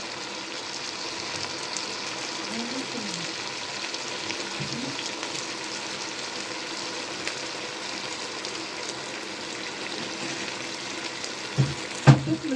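Potato pieces frying in hot oil give a steady, even hiss that runs throughout, close and alone, with a few louder bubbling pops near the end.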